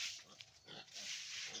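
Pigs on a pig farm in Assam grunt and snuffle faintly in a short, low-level burst, with no voices.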